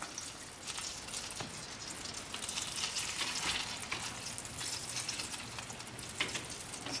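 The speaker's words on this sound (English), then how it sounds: "you can put the fish in and start frying them" Perch fillets fry in butter in a pan, giving a soft, steady sizzle with faint crackles and pops, quiet and close, with no talking.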